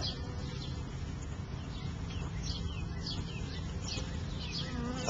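Honey bees swarm around a newly installed urban hive, a close, continuous buzzing drone with individual bees whizzing past, over a low background hum.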